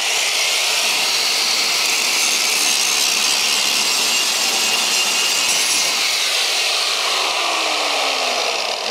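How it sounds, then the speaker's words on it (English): A grinding disc bites into a rusty nut on an old truck's side step bolt, giving a loud, continuous hissing whine that holds steady and bright for the full stretch without a break. "So now I'm going to use a grinding disc to grind the top off."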